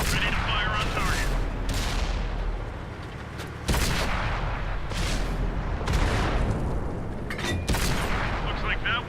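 Cromwell Knight tank cannon fire in World of Tanks console battle: loud booming shots at irregular intervals amid dense continuous gunfire and explosions, with a voice speaking over the combat.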